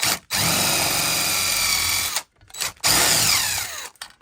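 A power drill whines at high speed through thin sheet metal in two long bursts, with a brief stop between them.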